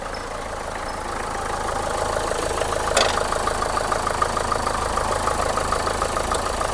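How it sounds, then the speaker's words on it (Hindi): Used car at a second-hand car lot in Delhi, with a steady engine idle running throughout, a clear mechanical hum with a brief sharp click near the middle, no talking. "अब होने वाली है गाड़ी स्टार्ट हमारी"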